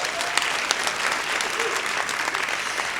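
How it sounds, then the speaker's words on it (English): An audience applauds at the 2019 Momentum gsport Awards, a women's sport awards ceremony in Africa. Dense, steady clapping fills the hall throughout, with a few sharper claps standing out from the crowd's wash. "a round of applause."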